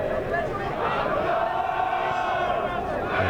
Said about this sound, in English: And the crowd really finding their voices now.